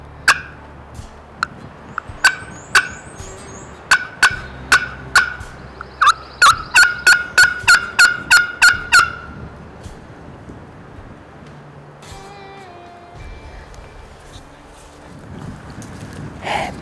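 Wild turkey in the Virginia hills giving a series of sharp, rapid clucks and yelps that build into a dense burst, then fade, over faint wind outdoors.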